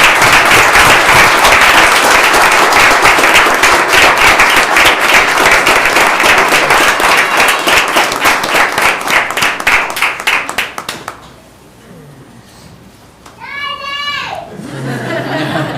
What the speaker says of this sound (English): Can we please give these officers a round of applause for the job they did?